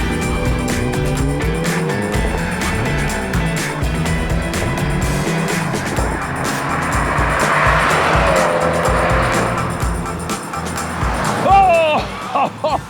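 Mini and Skoda hot hatches drag racing, engines roaring loudly and continuously with rising revs, tyre squeal and a brief screech near the end, with voices talking over the noise.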